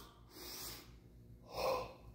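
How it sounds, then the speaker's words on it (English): Deep breathing through the nostrils: two audible nasal breaths, the first a hissing inhale, the second a louder, fuller breath after a short pause, close and alone with no talk. "this breathing may sound like weird stuff"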